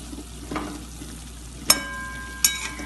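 Finely chopped green beans cooking in a pan with sambar powder for a Tamil beans kootu: a low, quiet sizzle with a few stirs and two sharp metallic clinks of a utensil.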